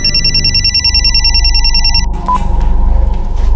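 A telephone rings with a repeated electronic trill for about two seconds, loud and close over a low background hum, then stops, leaving faint room noise.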